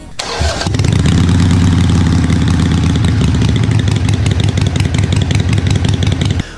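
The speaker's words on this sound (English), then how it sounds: "The V-twin's probably one of the most characteristic motorcycle sounds that's known." A V-twin motorcycle engine cranks and fires up, then settles into a loud, close, lumpy burbling idle with an uneven throbbing rhythm.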